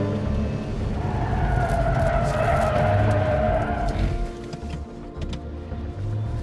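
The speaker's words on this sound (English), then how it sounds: "All right, I figured out how to slide it." A sports car, either a Corvette Z06 or a Lotus Emira, drifts hard through a corner on a track, its tires skidding in a loud, sustained squeal over engine noise that eases briefly and then picks up again.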